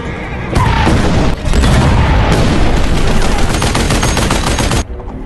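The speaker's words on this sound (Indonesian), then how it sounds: "Sang penambang berhasil selamat dari tembakan dan serangan meriam sang kapten." Gunfire and cannon fire from a war movie in which a captain attacks a gold miner: a loud, dense barrage of rapid shots and blasts, sustained for about four seconds before cutting off abruptly.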